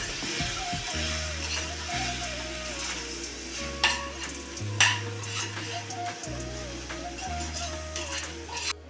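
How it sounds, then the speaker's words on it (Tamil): Steady scraping and stirring of semolina roasting in a pan with a soft sizzle, occasional utensil clinks against metal, under a low background hum. "ரவாவும் இதில் நல்லா வறுபடணும்"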